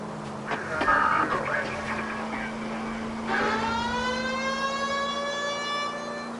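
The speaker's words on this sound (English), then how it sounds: "the siren sounds like something from a nuclear siren. I mean, listen to it." A wailing siren in the video game L.A. Noire, resembling a nuclear air-raid siren, rises and falls steadily, layered with a constant electronic hum and game-like effects, moderately loud throughout.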